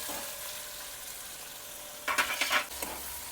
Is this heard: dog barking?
no